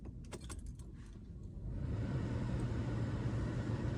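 Car being restarted with keys jangling first, then an engine catching and settling into a steady, close idle rumble; no talk.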